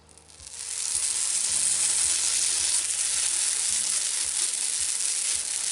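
Salt cod fritter batter sizzles steadily in hot oil in a pan, a loud continuous frying hiss that swells in within the first second and holds close and even, with faint low knocks underneath.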